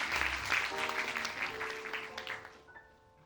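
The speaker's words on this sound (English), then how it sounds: "Give him a round of applause for his floppy shoes." Cabaret audience clapping for a guest at a sing-along show, a burst of applause that tapers off while sustained musical tones ring underneath.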